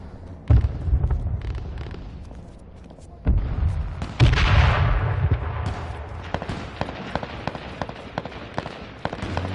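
Gunfire in a PS4 shooting game: heavy booming shots around the start and middle, followed by a steady run of sharp, rapid cracks over a rumbling background.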